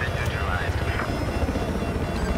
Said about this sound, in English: I've never flown a helicopter, but we're gonna find out how.